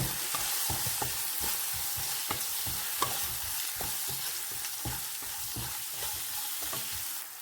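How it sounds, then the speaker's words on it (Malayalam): Chilli powder, spices and green chillies fry in a pan for chickpea curry, with a steady close sizzle and a regular rhythm of spoon scrapes against the pan bottom, no voices. "നന്നായിട്ട് ഇളക്കി കൊടുക്കാം"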